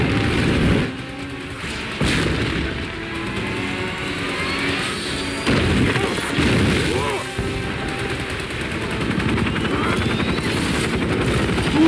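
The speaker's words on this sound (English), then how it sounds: "Helicopters there." A helicopter's rotor chop churns through a loud action scene from The Falcon and the Winter Soldier, mixed with gunfire bursts, booms and other battle noise.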